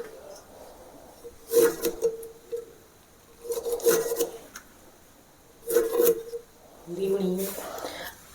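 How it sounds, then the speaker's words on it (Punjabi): A knife cuts through lemons on a board for pickle in four bursts of close scraping, rasping strokes, with quiet pauses between them. "ਨਿੰਬੂਆਂ ਨੂੰ ਆਪਾਂ ਇਸ ਤਰ੍ਹਾਂ ਕੱਟ ਲਿਆ ਜੀ"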